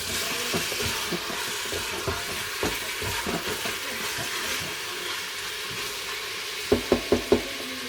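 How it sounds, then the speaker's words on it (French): Meat browning in a frying pan, a low continuous sizzle broken by scattered utensil scrapes and a quick run of four sharp taps near the end. "Je laisse colorer un petit peu ma viande."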